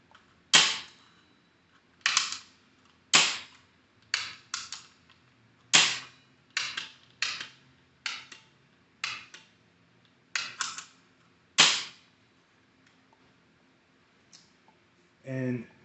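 A Salvo magfed paintball marker with no air is repeatedly cocked and dry-fired, giving about a dozen sharp, close mechanical clacks at uneven intervals over near silence, with one duller knock at the end.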